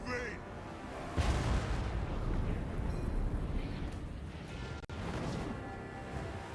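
Flame cannons fire in a Warhammer 2 battle, a loud sustained roaring blast with heavy low rumble that starts abruptly and runs continuously, with a brief dropout near the end.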